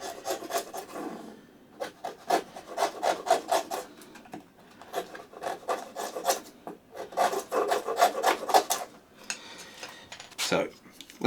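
A wooden wedge for a small camp axe is trimmed along its lower edge with a rasp or file, giving repeated rhythmic scraping strokes in bursts with short pauses, close and fairly quiet.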